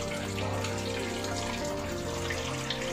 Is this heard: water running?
yes